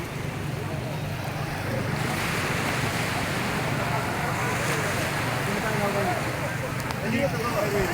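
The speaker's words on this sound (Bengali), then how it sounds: "দূর থেকে ঢেউ ভেসে আসছে খুব উঁচু হয়ে।" Ocean surf at Sugandha Point on Cox's Bazar beach, with tall waves rolling in from afar, gives a steady, loud wash of breaking water and wind that swells slightly around the two-second mark and keeps going.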